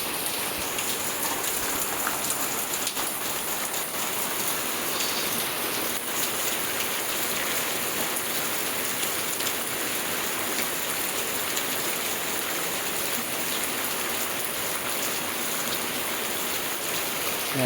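Heavy monsoon downpour in a Konkan village, with runoff from house eaves pouring down, a dense, steady roar of rain hissing on surfaces, close and unbroken, with no voices.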